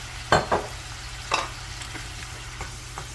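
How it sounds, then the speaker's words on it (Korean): Vegetables for japchae are stir-fried with sesame oil in a pan, giving a few soft scraping stirs and brief sizzling bursts over a steady low background hum, with no talking. "살짝 볶아준 다음에 여기다 면을 같이 싹 넣고 볶아주면 그걸로 끝납니다"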